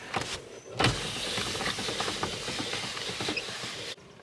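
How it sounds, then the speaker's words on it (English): The power window of a sawdust truck on a farm whirs down in one continuous motor hum lasting several seconds, close by inside the cab, with a few small clicks before it stops. "Gotta roll down the window because it's stinking hot in here."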